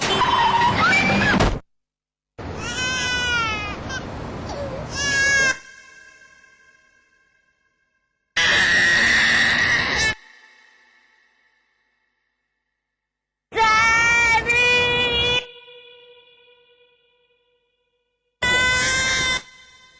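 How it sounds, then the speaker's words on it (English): Animals screaming in a vegan public service announcement: harsh, loud wailing cries in separate bursts of one to three seconds, broken by stretches of silence, with no talk. "we get to hear animals screaming as they want you to go vegan"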